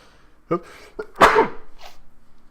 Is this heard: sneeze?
yes